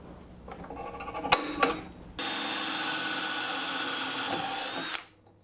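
Power drill driving a single screw into a DIY camper solar panel roof rack, a steady close whirring run of about three seconds after a few brief clicks and taps.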